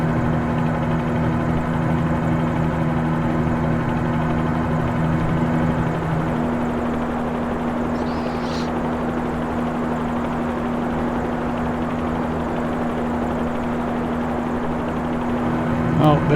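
A simulated helicopter in Microsoft Flight Simulator 2020, flying toward Key West, drones steadily with a constant rotor and turbine hum throughout, with no audible talk.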